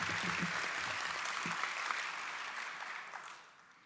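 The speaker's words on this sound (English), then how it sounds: "So a big round of applause for Michael Huff." Audience applause for Michael Huff at the 2024 Paycom Jim Thorpe Award ceremony: a dense, steady wash of clapping that fills the room, with a few faint voices early on, tapering slightly toward the end.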